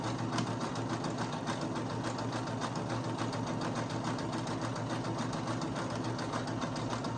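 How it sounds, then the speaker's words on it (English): Brother CS7000X sewing machine running steadily while sewing zigzag stitches, a constant close, fast mechanical whir and tapping with no pauses. "now we're going to start doing zigzag stitches now"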